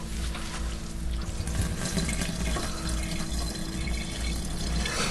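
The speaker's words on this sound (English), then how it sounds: "I'm going to want to let all that whey drain out of there." Whey drains steadily from a bag of homemade cottage cheese as a continuous gushing, splashing flow of liquid with no pauses.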